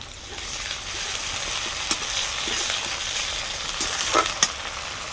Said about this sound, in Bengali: এবারে দিয়ে দেবো আদা রসুন বাটা জিরা বাটা।